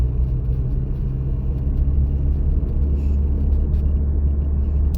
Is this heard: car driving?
yes